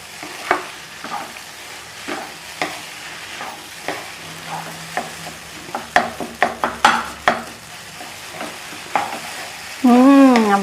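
Idli upma being stirred in a hot pan, a spoon scraping in a steady rhythm of repeated strokes over a soft background sizzle, with a brief louder scrape near the end.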